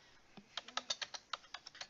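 Someone enters income data on a calculator keypad: about a dozen quiet, crisp key clicks in an uneven, quick rhythm, close by with no talk.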